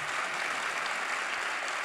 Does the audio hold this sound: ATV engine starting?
no